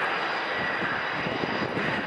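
An Airbus A400M military transport aircraft flies at the RIAT airshow in July 2010, its turboprop engines giving a steady, loud, broad roar with a droning hum and no pauses.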